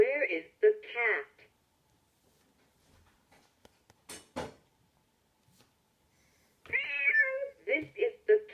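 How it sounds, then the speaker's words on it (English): A Vtech Little Smart Talk 'n Smile Town electronic children's toy plays a synthetic cat meow between electronic voice prompts, with clicks and quiet gaps as buttons are pressed. "This is the cat."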